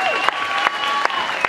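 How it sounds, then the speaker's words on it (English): Brief burst of dense, loud crowd applause for performers at a youth talent show, steady clapping with a few sharper peaks and light whoops mixed in. "let's give one big round of applause to Mr."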